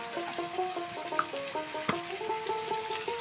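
Ground spices (chilli, cumin and coriander powder) sizzle and fry in a pan for slow-cooked Bengali kosha mangsho, with a steady crackle and scattered scraping stirs and clinks close by.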